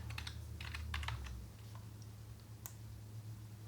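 Quiet computer keyboard typing while coding an HTML and CSS website, a quick burst of soft key clicks followed by sparse taps over a low steady hum.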